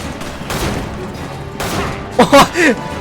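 Gunfire in the video game Resident Evil 5, bursts of rough, noisy shots in quick succession, close and loud, with a voice speaking over the last part.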